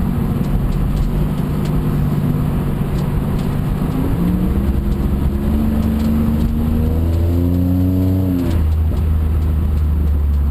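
A car engine and exhaust drone loudly up close, the pitch climbing as it revs through the gears, then dropping and settling into a steady rumble.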